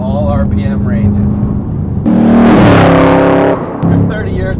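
Chevrolet Camaro SS V8 fitted with a Borla ATAK performance exhaust revs hard in a loud, rising burst that holds and then cuts off, with someone talking before and after it.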